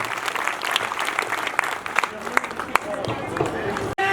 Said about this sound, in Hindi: अगर जीतना है तो जोरदार तालियां